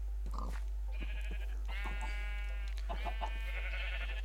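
Sheep in Minecraft bleat several times in short, nasal cries, some overlapping, over a constant low hum.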